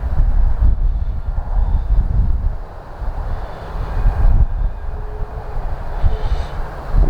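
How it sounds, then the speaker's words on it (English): A Fimi X8 SE drone flies over road construction, its faint motor whine sitting under a loud, steady rush of wind buffeting the microphone. "I'm backing the drone up here so you can see it."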